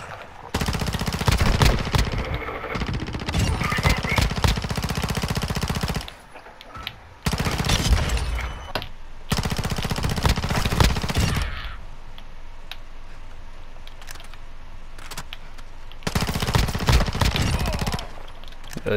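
Rapid automatic gunfire in Modern Warfare II comes in several loud, dense bursts separated by short pauses, up close and dominating, with mechanical clatter in between.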